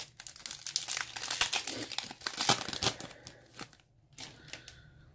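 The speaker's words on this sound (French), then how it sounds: "Et on va s'ouvrir donc le dernier booster que voici." A Yu-Gi-Oh booster pack wrapper from the Legendary Duelists: Sisters of the Rose set is torn and crumpled open up close, giving a run of crinkly plastic rips over a few seconds, with brief pauses and no talking.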